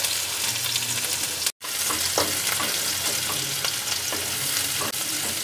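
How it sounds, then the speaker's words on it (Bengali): Chopped onion hits hot oil in a wok, producing a close, continuous sizzle with occasional stirring scrapes and a brief cut near the start, no speech. "তেল গরম হয়ে গেছে, এর মধ্যে প্রথমেই দিয়ে দিলাম কেটে রাখা পেঁয়াজ।"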